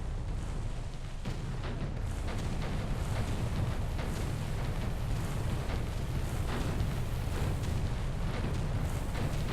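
Naval guns bombard Iwo Jima in Victory at Sea Pacific, a constant heavy rumble of distant shellfire and blasts rolling together without pause, thick and low, with no voices.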